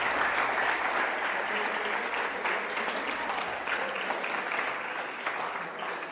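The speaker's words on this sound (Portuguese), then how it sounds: "Vamos aplaudir a Igreja Católica?" A church congregation applauds during a Catholic sermon, steady dense clapping that carries on for several seconds at even strength with no talk over it.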